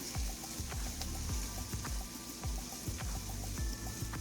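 Onions, garlic and pepper sizzle steadily in a pan over medium heat while baked beans are being made, a close, continuous crackle with light stirring clicks and no talk.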